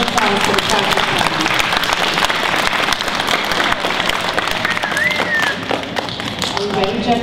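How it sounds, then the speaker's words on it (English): Applause at a school spelling bee after the practice round, dense clapping of a room of people that stays loud and even throughout, with a few faint voices underneath. "Let's get a round of applause for the practice round."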